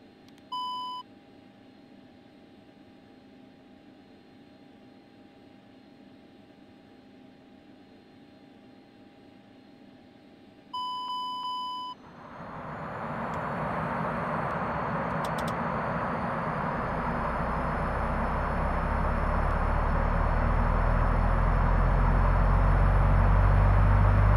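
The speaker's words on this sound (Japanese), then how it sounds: "ナンバー2エンジンスタート。" A DHC-8 Q400's number 2 engine starts up in the aerofly FS 2020 flight simulator: a couple of short cockpit beeps, then a steadily building turboprop roar that grows louder and deeper until the end.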